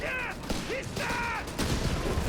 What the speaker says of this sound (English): automatic fire unleashed here